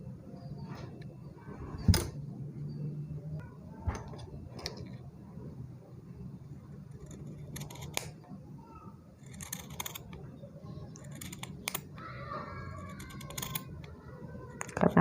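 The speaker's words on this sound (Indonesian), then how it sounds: "Karena tebal, jadi saya gunakan gunting yang lebih besar supaya lebih rapi." Large scissors snip thick yarn while a tassel is trimmed, giving scattered sharp, close clicks and cuts at irregular intervals over quiet room tone.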